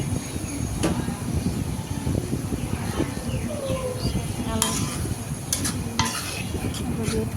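Potatoes are stirred into sizzling spice paste in a pan for a fish-roe curry: a close, steady frying hiss with scraping stirs and occasional utensil clinks.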